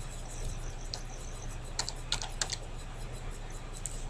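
Keys on a computer keyboard tap in short sparse bursts, a few crisp clicks close by over a quiet steady background hum.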